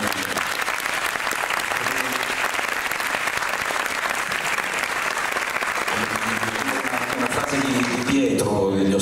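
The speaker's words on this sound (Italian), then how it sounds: "forse un applauso per..." An audience at an Italian cast meeting for Boris 4 gives sustained, steady applause that fills the whole stretch, with a voice coming in near the end.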